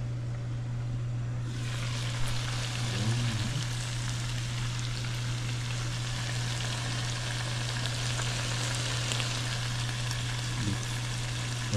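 A steak sizzles steadily in a hot pan, a continuous close, moderately loud frying hiss from start to finish over a constant low hum, with no talking.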